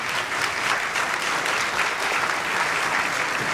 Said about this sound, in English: Let's give our production team members a big round of applause,